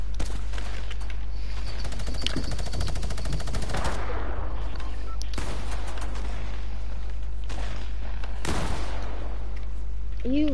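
Gunfire in the video game Fortnite: rapid automatic bursts and separate loud shots come through a steady game soundscape, with voices talking over the action.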